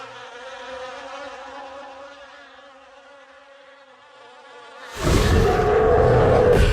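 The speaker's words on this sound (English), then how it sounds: "The angry bees rushed out of the hive and surrounded the frightened bear." Swarm of angry bees buzzing out of a shaken beehive: a close, sustained insect drone that grows into a louder, denser burst of buzzing near the end.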